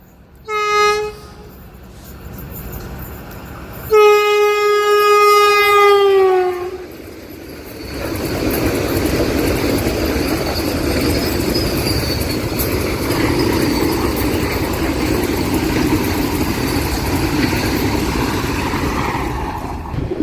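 A Vande Bharat express passes through Ullindakonda railway station, sounding two long horn blasts, then a steady, loud rumble of wheels and carriages rolling past for many seconds.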